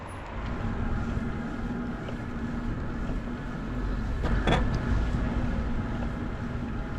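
A vehicle rolls over cobblestone pavement in Passau near the Inn river, giving a continuous loud rumbling rattle with a steady hum that grows rougher partway through.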